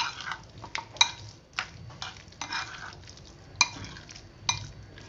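A spoon stirs egg into Egg Manchurian batter in a bowl, giving a scraping swirl broken by several sharp clinks against the sides, close up and moderately loud with no talking.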